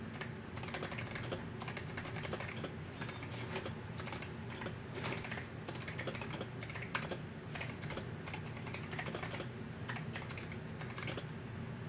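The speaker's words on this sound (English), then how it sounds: "Hear the clicky clacky of your keys all the way from the living room." Rapid, continuous typing on a clicky computer keyboard, dense sharp keystroke clicks at an irregular rhythm, heard close and fairly loud throughout with no talking.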